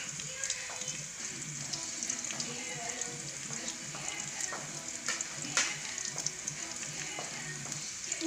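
Garlic frying in oil in a pan for balbakwa, a continuous soft sizzle and crackle under occasional light stirring scrapes, fairly quiet and close, with no one speaking.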